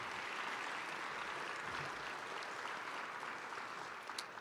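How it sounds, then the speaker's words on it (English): A sustained round of applause for the commissioners at a government address fills the room steadily for several seconds, a dense wash of many hands clapping with no talk over it. "Give our commissioners a round of applause."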